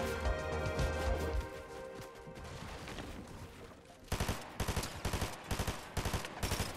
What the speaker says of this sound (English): there's someone right here trying to shoot at us